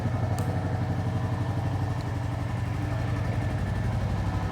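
A Honda CB350C 350 cc motorcycle idles just after starting. Its engine gives a steady, loud, close thumping pulse that keeps an even rhythm throughout, with no voices over it.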